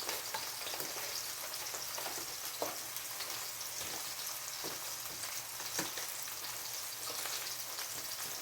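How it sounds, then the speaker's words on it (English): Rice-A-Roni sizzles in a skillet, a constant hiss like light rain, with a few faint clicks of stirring scattered through, steady and fairly quiet, no speech. "we're going to go ahead and turn on our skillet to do our rice-a-roni"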